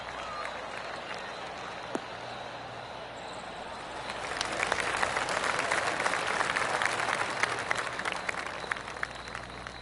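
Crowd applause from a PGA 2K25 golf game after an approach shot on the par-4 17th, a low murmur swelling into steady clapping and cheering midway, moderately distant.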